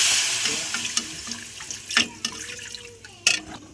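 Water poured into a pressure cooker holding mutton and raw potato, a splashing, gurgling stream with a few sharp clinks of metal, close and fairly quiet.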